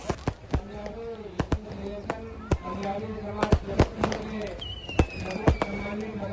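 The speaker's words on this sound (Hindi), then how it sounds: "ज़बरदस्त आतिशबाजी हुई है रावण और कुंभकर्ण के पुतले के दहन के बाद" Fireworks burst after Ravana and Kumbhakarna effigies are burned at a Punjabi Dussehra celebration in Jabalpur: many sharp cracks and pops at irregular intervals, one whistling rocket rising, over crowd murmur and voices.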